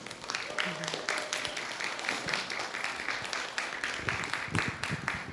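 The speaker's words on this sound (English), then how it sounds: "Let's give our guests a great big round of applause." An audience applauds guests at a talk, with a continuous wash of clapping from many hands filling a large hall with balconies and a few voices heard faintly underneath.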